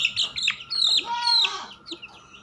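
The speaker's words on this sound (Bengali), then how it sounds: "এখানে আছে সিল্কি মুরগি আর কিছু দেশি মুরগির বাচ্চা" Silkie and native chicken chicks peeping in high, thin chirps, several overlapping close by, fading slightly toward the end.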